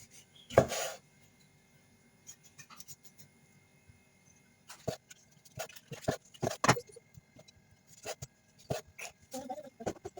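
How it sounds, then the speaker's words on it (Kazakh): A knife chops tomatoes for a farfalle salad, giving sparse, sharp cuts, one loud stroke near the start and then scattered irregular chops, some in quick pairs, against a quiet kitchen. "Қызанағымызды тураймыз."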